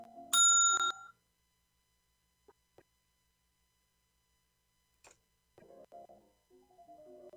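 A single bright, ringing bell strike used as a timing signal for a food-inspection practical exam, loud and alone at the start. It is followed by faint clicks and brief soft tones, with no talk.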